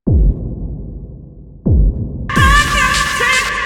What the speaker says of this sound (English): and then we have this little impact kick.